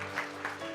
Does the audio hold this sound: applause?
yes